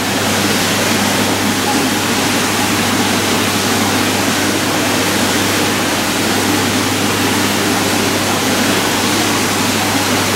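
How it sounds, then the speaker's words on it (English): Pond filter waterfall at a newly built filter setup, water pouring steadily into the pond as a loud, continuous broadband rush with a low hum beneath, unbroken throughout. "Yeah, so there is the waterfall for that one."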